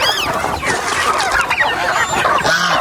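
Farm chickens being fed on open farmland: a dense, close chorus of clucking and squawking from many birds, loud and continuous throughout.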